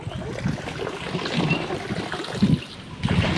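Water flows and trickles steadily nearby, a soft continuous babble with small irregular splashes and no voices.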